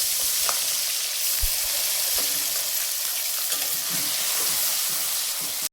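Dried chillies, whole garam masala and chopped onion fry in hot oil with a loud, constant sizzle, broken by a few soft scraping stirs, close to the pan and without talk.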